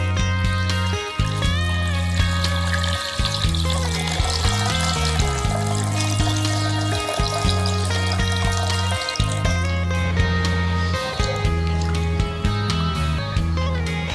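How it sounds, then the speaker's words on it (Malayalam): Four cups of water poured into a pot holding two cups of basmati rice, a steady splashing flow heard under background music. "2 കപ്പ് ബസ്മതി അരിയാണ് എടുത്തത്, അതിലേക്ക് 4 കപ്പ് വെള്ളം. ഈ വെള്ളം ചേർത്ത് കൊടുക്കാം."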